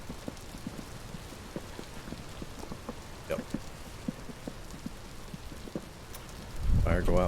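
Rain patters steadily in the video game Vintage Story, a faint, even hiss with soft scattered drop ticks, joined briefly by a louder rumble at the end while a voice speaks a short word.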